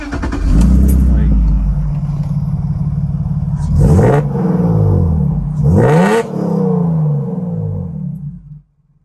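BMW E46 with a true dual exhaust revving hard, loud and close, with a steady drone broken by two sharp rev blips that rise and fall before the engine cuts off near the end.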